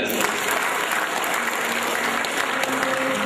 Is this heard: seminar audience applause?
yes